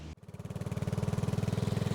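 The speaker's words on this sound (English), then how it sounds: "So let's go and have a play with this engine as I negotiate this roundabout" A BSA Goldstar motorcycle's water-cooled 650 single-cylinder engine thumps in a rapid, even pulse, close and steady, as the bike rides toward a roundabout.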